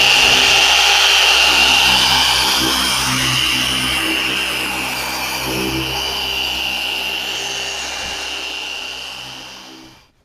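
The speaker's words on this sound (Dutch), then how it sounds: "laatste stap, polijsten" A machine polisher works on the paint of a Mercedes GLK 350 during detailing, a loud whirring motor whine holding steady close by and then shutting off at the very end.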